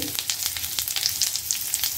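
Cumin seeds dropped into hot oil in a kadai, a brief crackling sizzle with sharp pops, fairly quiet and alone.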